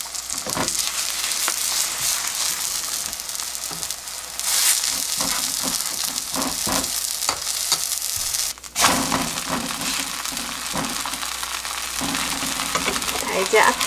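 Napa cabbage pancake fries loudly in oil in a pan, a close, steady crackling sizzle with scraping and shifting from a turner, one brief dip in the middle, and no talk.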